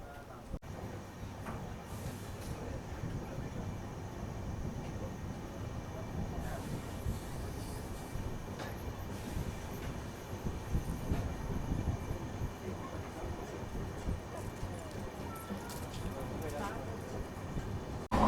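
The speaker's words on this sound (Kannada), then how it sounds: "ಇದು 2 ಮಿನಿಟ್ಸ್ ಸ್ಟಾಪೇಜ್ ಆದಮೇಲೆ ನಾವು ಹೊರಟ್ಬಿಟ್ಟಿದ್ದೀವಿ ಹೊಸೂರು ರೈಲ್ವೆ ಸ್ಟೇಷನ್ ಇಂದ" The Tuticorin Express pulls out of Hosur railway station, a continuous rumble of rolling wagons with occasional wheel squeals and clatter, fairly faint and steady, while a voice speaks over it.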